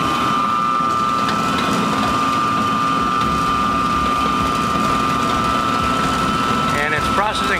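A 25-horsepower single shaft shredder grinding material, a steady loud mechanical churn with rattling and a constant drone throughout, a voice talking over it.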